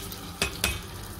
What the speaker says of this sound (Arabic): انا هحمر الشعريه بقى في الزبده والزيت